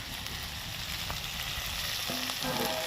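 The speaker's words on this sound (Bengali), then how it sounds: "নারকেলটাকে একটু হালকা করে ভেজে নেবো" Grated coconut frying lightly with potato and eggplant in a pan gives a soft, steady sizzle with faint scraping near the end, with no talking.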